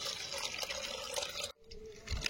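Cooked lentils being rinsed give a faint wash of running water, with light trickling and splashing for about two seconds and a brief pause near the end.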